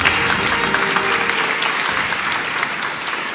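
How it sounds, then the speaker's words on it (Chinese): An indoor gathering receiving the Tokyo 2020 Paralympic team claps for a long-jump athlete, a brisk, full round of applause from a crowd, steady and close for a few seconds. "我们给他掌声。"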